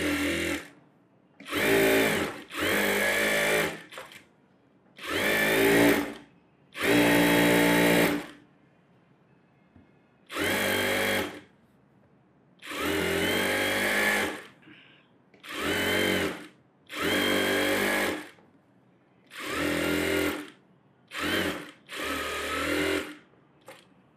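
A sewing machine runs in repeated bursts of a few seconds each, stitching around the lining of a net model blouse, with short quiet pauses between runs and no talking.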